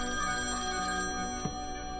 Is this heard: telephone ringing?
yes